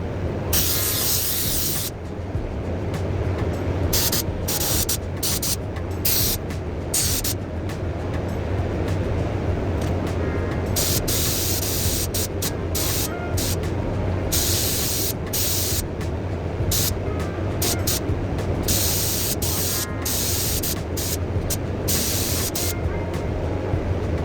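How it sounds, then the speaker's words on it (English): A spray gun hisses steadily as it coats parts of a 300ZX car with sealer, a loud continuous spray with short pauses between passes. "First, I'm spraying sealer onto the parts."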